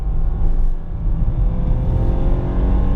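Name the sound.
Honda Fit Sport engine accelerating at full throttle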